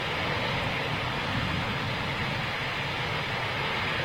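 Eurofighter Typhoon jets taxiing out at RAF Coningsby give a steady, broad engine roar that holds at an even level throughout, with no voices over it.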